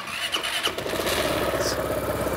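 A Vespa scooter engine cranks and catches, then settles into a steady, close running idle that continues throughout.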